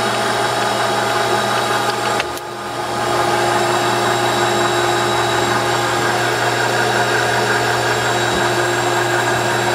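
A Jet 13x40 GHB-1340A metal lathe runs in reverse at low speed, giving a steady motor hum and whine with a brief dip near the start before the tone settles back, alone and without talk.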